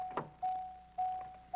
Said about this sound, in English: a headlights on indicator and chime, which also sounds to remind you of seat belts and key left in the ignition